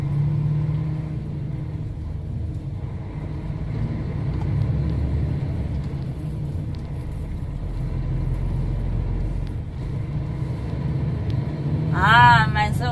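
A truck engine hums and rumbles steadily as it drives and shifts gears, a low, close drone that swells and eases, with a brief louder revving whine near the end.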